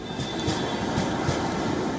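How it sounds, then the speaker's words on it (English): An almost empty passenger train travelling through Ukraine, a steady loud rumble with faint rhythmic wheel clatter, heard from on board with no voices. "the almost empty trains make their way cautiously"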